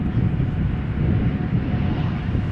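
KLM airliner arriving from Turin and landing at Schiphol Airport in crosswind conditions, heard as a steady, loud broadband engine roar with wind rumble, continuous throughout with no speech.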